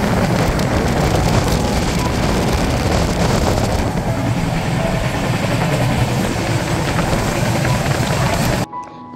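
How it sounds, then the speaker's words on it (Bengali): A train running along the rails, heard from beside an open carriage door as it travels at sunset; a loud, steady broadband rumble and rattle continues throughout, cutting off abruptly near the end. "এইখানে এই দরজাটার সামনে দাঁড়িয়ে ট্রেনটা যাচ্ছে"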